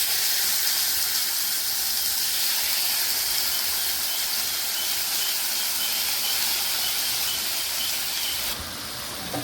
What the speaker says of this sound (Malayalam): ബീഫ് അതിലേക്ക് ഇടാം.